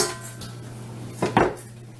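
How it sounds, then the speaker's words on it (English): A 5-quart casserole dish being pulled out of a kitchen cabinet, giving a couple of close, bright clinks and clatters of cookware against other dishes. "Now I'm going to get my 5-quart casserole dish, which I really use a lot."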